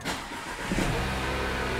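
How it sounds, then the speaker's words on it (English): A Nissan Qashqai engine cranks and catches after being started with a programmed universal smart key, then settles into a steady, close idle hum with no talking. "Now let's try and start the vehicle."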